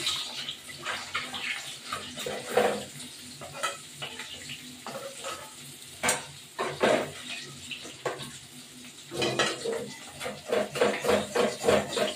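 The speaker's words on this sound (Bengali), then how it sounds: "এখন এই মাছটা ভাজা করে নেব।" Oil sizzles steadily as rohu fish fries in a pan, with occasional clatters and stirring scrapes breaking through the continuous hiss.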